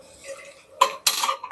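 A metal cooking vessel set down on a gas stove, giving two sharp, close clanks in quick succession against a quiet background.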